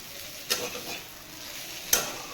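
Figs and potatoes fry with whole dried chillies in a pan, giving a soft continuous sizzle with two distinct spatula scrapes as the mixture is stirred.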